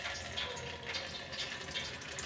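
Kitchen tap running steadily into a sink while raw chicken pieces are rinsed, a continuous hissing water stream with no talk.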